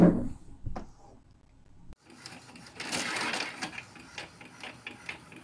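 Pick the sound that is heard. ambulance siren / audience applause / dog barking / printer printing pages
printer printing pages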